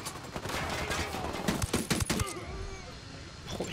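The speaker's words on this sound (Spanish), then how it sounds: "Mira cómo disparo, mira cómo disparo." Rapid bursts of gunfire in the Ghost Recon video game, a cluster of sharp repeated shots in the middle, followed by quieter ambient game sound.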